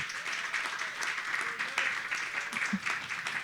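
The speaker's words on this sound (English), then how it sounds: "A round of applause for Matt." Fairly quiet applause from the audience for a keynote speaker at an innovation celebration, continuous light clapping with faint voices mixed underneath.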